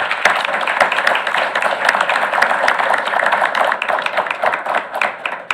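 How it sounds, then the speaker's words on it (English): Audience at a school board meeting applauding All-State choir students, a loud, dense, steady round of clapping with sharp individual claps close by. "I think that it deserves a big applause for that"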